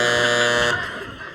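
A game show buzzer on a British improv comedy panel show blares loud and steady for about three quarters of a second, then cuts off, leaving a faint room tail.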